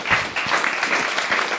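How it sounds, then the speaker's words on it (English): An audience at a money-themed networking event gives the speakers a round of applause, a steady wash of many hands clapping together without a break. "Can we have a round of applause for the speakers?"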